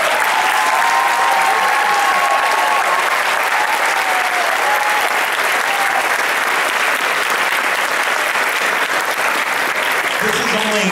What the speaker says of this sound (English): Please give a big round of applause for the composer of this piece